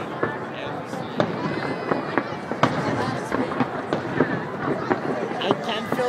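Fireworks exploding outdoors in a rapid irregular series of sharp cracks and pops, some near and loud, others fainter, over a constant crowd murmur with people talking.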